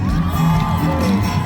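Crowd cheering and whooping for the band at a live music concert in Makassar, a loud, dense wash of voices with shouts rising above sustained noise, continuous through the moment.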